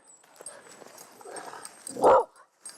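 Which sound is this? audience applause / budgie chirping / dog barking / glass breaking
dog barking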